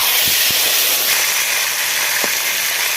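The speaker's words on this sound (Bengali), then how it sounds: "তেলটা গরম হয়ে গেছে, এবার মাছটা ভেজে নেব।" Kuche fish frying in hot oil in a village kitchen, a loud steady sizzling hiss throughout with a few faint low taps.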